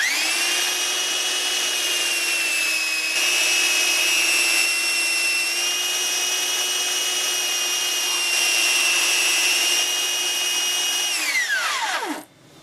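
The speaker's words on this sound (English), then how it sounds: "I wanted to clean them up by hand, and I'm going to do that on the belt sander" A belt sander cleans up a wooden reinforcing block for an antique rocking chair, giving a loud, steady whining drone with a faint scraping texture, then spinning down sharply at the end.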